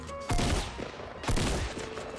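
Two loud gunfire bursts in the Fortnite Battle Royale video game, about a second apart, close and alone with no talk.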